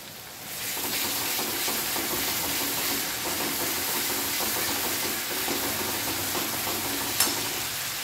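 Potato curry with green chili paste being stir-fried gives a steady loud sizzle with a continuous hiss and repeated stirring scrapes, close up, with one sharp clink near the end and no talking.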